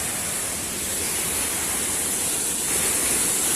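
Loud, steady rush of a waterfall on a river along Scotland's West Highland Way, broad hissing roar of falling water filling the scene without pause, close by and unchanging.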